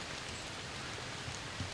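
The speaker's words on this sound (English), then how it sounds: "It's raining right now. It's nice and cool. Sleeting, actually." Steady rain mixed with sleet falling outdoors in the Illinois woods, a dense continuous hiss of drops on surfaces with a few louder pattering hits, no voices.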